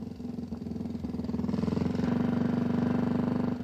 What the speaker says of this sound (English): The R2 motorbike continued the BMW pattern of horizontally opposed twin engines and shaft drive.